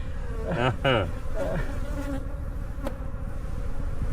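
Bees buzzing around their hive as foragers return from the field, a dense, steady insect drone throughout, with a brief voice-like burst near the start.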